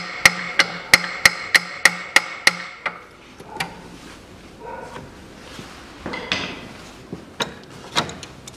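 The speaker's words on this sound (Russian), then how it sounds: "Берем молоточком, не сильно. Отстукиваем сверху чуть-чуть и снизу чуть-чуть." A small hammer lightly taps metal on a Land Rover Discovery 3 engine in a quick, even series of about eight ringing strikes, followed by scattered lighter knocks and clinks.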